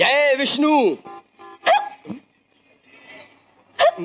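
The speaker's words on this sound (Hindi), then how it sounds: "हिचकी आ गई यार" A person hiccups sharply a couple of times in a Hindi film scene, brief abrupt gulps set between stretches of close, lively speech.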